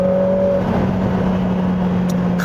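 A Lotus Emira with a 2.0-litre AMG turbo engine holds a steady, loud, deep drone with a low hum, heard close from inside the car without speech.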